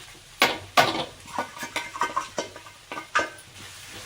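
A utensil stirs okra frying in a pan, giving a steady series of distinct scraping clinks against the metal over a faint sizzle, close and clear, with no talking.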